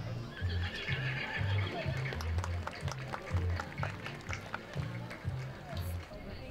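The Connemara pony Cashel Bay Katie, a show champion, moves through an arena at a pony show with rhythmic, fairly faint hoofbeats under a public-address announcer's voice and crowd murmur.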